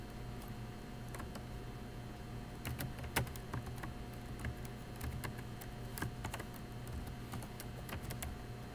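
Keystrokes on a computer keyboard while a command is entered in a terminal text editor, a faint, irregular patter of clicks over steady low background hum, with no talking.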